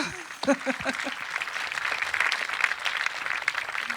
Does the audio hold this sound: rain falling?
no